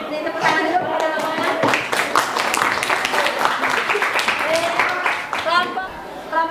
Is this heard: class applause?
yes